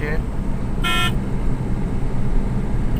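A car horn gives a short honk during a drive on the Grand Trunk road, heard over constant road and engine rumble.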